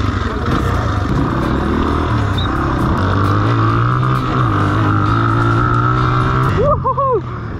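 A dirt bike engine roars steadily up close while riding through woods, pitch rising and falling, with a short shout near the end.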